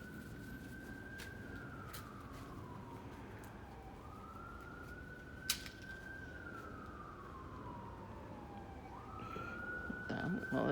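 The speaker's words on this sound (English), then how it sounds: "Well, it's the ambulance again." A wailing ambulance siren sweeps up and down in long slow cycles, heard from a distance over steady traffic rumble.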